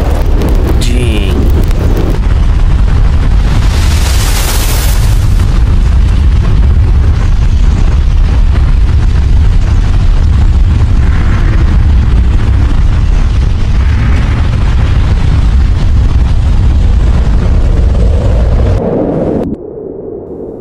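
An anime battle explosion roars as a loud, sustained rumbling blast with crackling bursts and a broad hiss that fills nearly twenty seconds, then cuts off abruptly.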